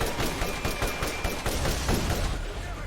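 Rapid bursts of gunfire crackle in the Borderlands video game, a dense run of sharp shots that keeps up for about three seconds with no talking.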